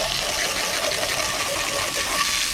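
A garden hose sprays water onto a lawn mower, giving a steady hissing splash with backsplash that holds evenly, close and fairly loud with no pauses.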